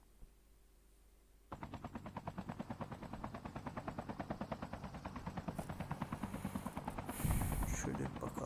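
A helicopter in Call of Duty Mobile battle royale, its rapid rhythmic rotor thumping starting abruptly and continuing loudly and steadily, growing slightly stronger toward the end.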